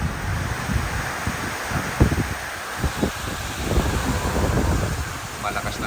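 Strong typhoon wind in Ilocos roars continuously against the microphone, buffeting in gusts with rustling and a faint voice underneath.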